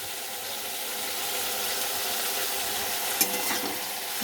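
Food stirred in a hot pan with salt and turmeric, a constant close sizzle and hiss broken by a soft scrape or two near the end, with no voices.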